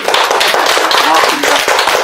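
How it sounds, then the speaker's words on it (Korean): Group of people clapping together at a meditation lecture in a Seoul meditation centre, a dense burst of handclaps filling the room with faint voices mixed in. "박수를 한번 치고 시작하죠."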